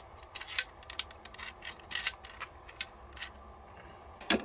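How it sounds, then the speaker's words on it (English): A Chinese Arsenal 66 JRA AK-47's bolt and bolt carrier are handled, giving a series of close metallic clicks, ratcheting and sliding scrapes at irregular intervals, ending in one sharper clack, with no talk. "And now we're going to put our bolt and bolt carrier back into place."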